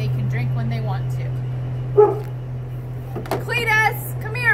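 A farm dog barks and yips a few times at a moderate distance while a person talks nearby, with a steady low hum running underneath.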